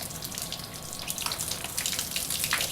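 Water gushes steadily from a watering can or spout into the dry soil of a potted plant, a continuous close splashing and trickling that soaks through the root mass with no talk over it.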